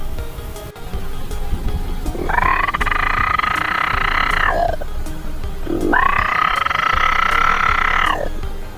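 A comedian imitates frogs croaking with his voice, making two long, drawn-out nasal croaks that are loud and close, separated by a short pause over faint background noise.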